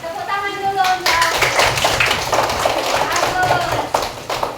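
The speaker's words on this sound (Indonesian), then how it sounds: "Tepuk tangan dulu untuk." Hands clap in a school classroom, a run of sharp claps following a brief voiced tone, with children's voices mixed in over the clapping.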